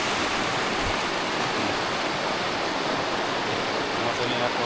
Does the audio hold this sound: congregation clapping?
no